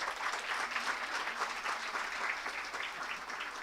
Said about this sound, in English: A big applaud for her.